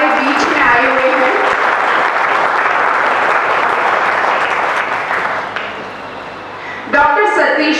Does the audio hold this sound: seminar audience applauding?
yes